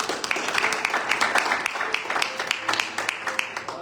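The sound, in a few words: congregation applause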